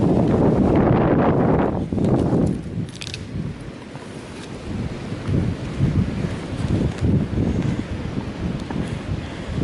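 Cold wind blows outdoors, buffeting the microphone in loud, rumbling gusts that swell and ease irregularly, with no voices.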